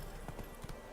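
A horse in The Witcher 3 trots in a brief, quick burst of a few hoof clops over a muffled game background.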